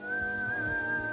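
A cartoon character whistles through pressed lips, holding one clear, steady high tone with slight wavering, fairly close and alone without speech.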